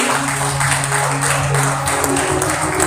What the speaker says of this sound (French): Applaudissez le Seigneur matin dans l'église.